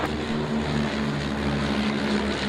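A propeller aircraft of the Dragon display at Duxford drones steadily, a sustained engine hum with a low harmonic buzz, heard at a moderate distance with no talking.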